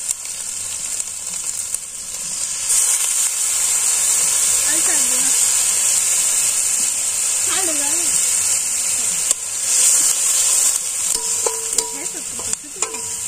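Ground cumin, ginger, onion and garlic paste sizzle and hiss steadily in hot oil in a pan over a village clay stove, with stirring scrapes and occasional faint voices.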